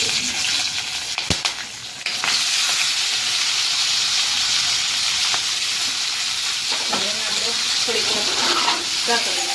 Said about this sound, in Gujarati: ને હવે હિંગ નાખી દઈશું, ગેસ ધીમો કરી દઈશું. આ બધી વસ્તુ આની અંદર નાખી દઈશું.